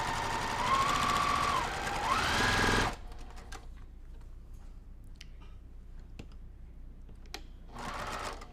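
A sewing machine stitching quilt fabric, a fast, loud mechanical whir for about three seconds, then quiet with faint ticks and clicks, before the motor briefly runs again at the end.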